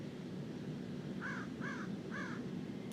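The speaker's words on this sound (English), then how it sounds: "So says the crow." Three evenly spaced caws from a crow sound at moderate distance over a steady, hissy outdoor background, with no talking.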